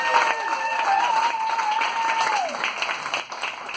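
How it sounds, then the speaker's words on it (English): A Returned Peace Corps story slam audience gives a full round of applause to the storytellers, thick and continuous, with a long sustained whoop or whistle rising above it before it thins out at the end. "can we just get one more round of applause for all the people who've been brave enough to come up here?"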